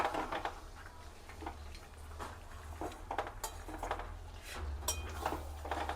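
Large mutton pieces for a Bengali mutton curry are sautéed in a pot, with repeated metallic clinks and scrapes of a spoon against the pot over a low, steady sizzle, no talking.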